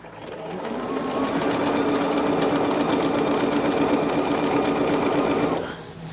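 A sewing machine stitches in a steady fast whirring run, close and fairly loud, humming for several seconds before slowing and stopping.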